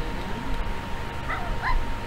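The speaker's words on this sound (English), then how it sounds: "Little bitty dog. She's a puppy." A small puppy in The Sims 4 gives a couple of short, high yips near the end over a steady bed of game ambience, with no talking heard.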